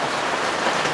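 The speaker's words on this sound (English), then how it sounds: "And it's starting to rain." Steady rain falls outdoors beside an old MK I car under repair, a dense, even hiss of drops on surfaces that continues without pause.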